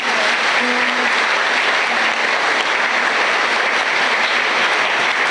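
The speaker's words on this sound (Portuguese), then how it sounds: "E nós agradecemos e o acolhemos com a nossa calorosa salva de palmas." Warm applause from a church congregation at a Catholic novena service in Brazil, a dense continuous clapping that stays loud and even throughout with no break.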